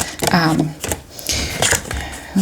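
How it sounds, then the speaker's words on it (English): Oversized playing cards are shuffled by hand in a few stiff, slapping riffles and flutters, close up, with short bursts separated by brief pauses and a voice talking alongside. "One more shuffle. Very hard cards to shuffle."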